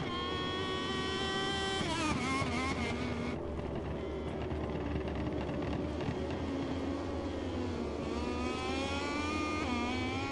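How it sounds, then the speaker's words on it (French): A CB1000 racing motorcycle screams past during a road race, its high-revving engine whining continuously with rising and falling pitch over a steady background roar. "Une moto qui marche."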